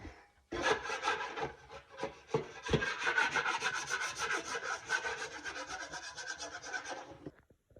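Close, steady scraping of scratched-up drywall inside a closet, a continuous rough rasping rub lasting several seconds after a quiet start, with no talking.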